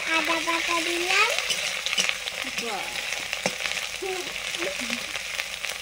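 Ginger paste and onion fry together in a pan, giving a steady, close sizzle with crackling stir scrapes and a few faint tonal squeaks over the hiss.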